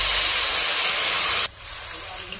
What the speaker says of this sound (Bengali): আলু যখন কষানো হয়ে গেছে তাহলে জলটা দিয়ে দিচ্ছি।